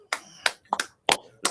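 Sparse hand claps from a small gathering, a handful of sharp separate claps in an uneven rhythm, close and fairly clear with short silences between them.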